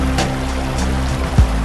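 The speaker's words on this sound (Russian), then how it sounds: "Бурная река шумит рядом." Rushing water of the Aksaut, a turbulent mountain river at its source in a gorge, a steady broad roar nearby with a brief low thump near the end.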